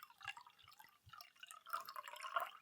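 Alcohol-free Pinot Grigio poured from a bottle into a wine glass: soft, close liquid trickles and drips, a few brief splashes early, then a fuller, quiet pour toward the end.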